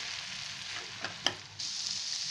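Egg and chickpea mixture stirred in a hot pan for a healthy egg chana snack, a steady sizzle with a couple of sharp spoon scrapes partway through, no one speaking.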